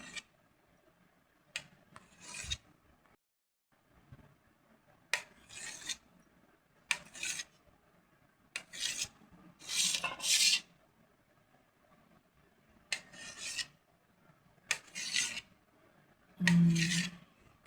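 A knife clicks and scrapes against a board in irregular bursts as it cuts a cooked egg into small pieces, with quiet pauses between the cuts.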